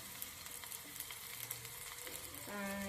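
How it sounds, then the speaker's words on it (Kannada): Tempering crackles and sizzles in a steel pan on a low gas flame, a soft, steady frying hiss dotted with small pops, with a faint tonal hum entering near the end. "ಸೊ ಇದು ಚಿಟಪಟ ಅನ್ನುವಾಗ ನಾನು ಇದನ್ನು ಹಾಕ್ಕೊಂಡ್ಬಿಡ್ತೀನಿ"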